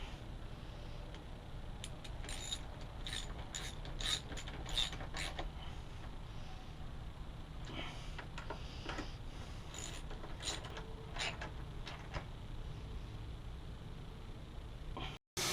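A fastener being tightened down on a Suzuki DR350 motorcycle near the foot peg gives off bursts of quick ratcheting clicks and faint metallic creaks, repeated over a low steady background, close by with no speech.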